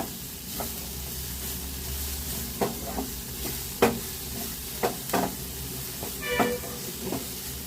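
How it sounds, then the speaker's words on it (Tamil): Food fries quietly in oil in a home kitchen pan, giving a low steady sizzle broken by scattered clinks and scrapes as a spoon stirs it. "இப்போ எண்ணெய் விட்டு நல்லா வறுத்து கொடுங்க"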